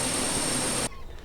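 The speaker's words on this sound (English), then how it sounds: "For this we're going to use a textile machine sound." A textile machine recorded as a sample for a hi-hat, giving a loud, dense mechanical whir with a bright high-pitched whine that runs steadily and then cuts off abruptly, leaving a quiet tail.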